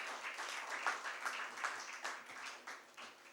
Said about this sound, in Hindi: एक शर्मा जी के लिए तालियां ज़्यादा बजाई थी हम लोगों ने, इनके लिए कम बजाइए, थोड़ी सी और बजाइए